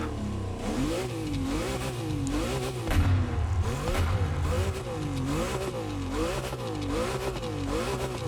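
A Porsche 918 Spyder engine in the video game The Crew Motorfest idles and revs in a steady looping pattern, the pitch rising and falling repeatedly at moderate volume.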